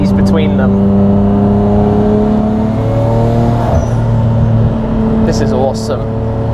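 Paul Walker's former Nissan Skyline R34 GT-R, manual clutch and shifter, drones steadily along open roads, its engine hum loud and constant from inside the cabin, with a voice talking over it.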